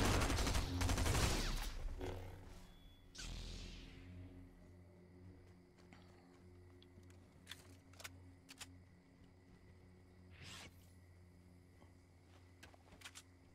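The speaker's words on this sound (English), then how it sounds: "Oh, why are you shooting at the robots?" Gunfire at robots in the video game Fortnite opens with a loud, dense burst of shots up close, then drops to scattered, fainter single cracks and clicks over a quiet game background.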